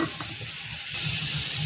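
Potatoes fry in hot oil with salt and turmeric, giving a steady, close sizzle with stirring that grows a little louder partway through.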